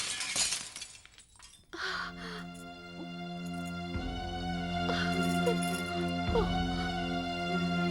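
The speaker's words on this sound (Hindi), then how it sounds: "माँ, बाबा की तस्वीर कैसे गिरी?" A glass-framed picture of Sai Baba falls and shatters, a sharp crash of breaking glass at the start. Sustained tonal dramatic music follows, with a few quieter impacts beneath it.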